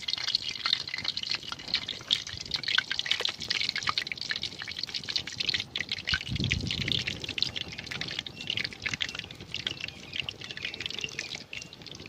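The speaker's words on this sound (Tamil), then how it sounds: "வெங்காய போண்டா முறுன்னு எப்படி கொதிச்சு பாருங்க." Onion bondas fry in hot oil in a village outdoor kitchen, a continuous fizzing, bubbling hiss with a brief low thump midway, steady and fairly close.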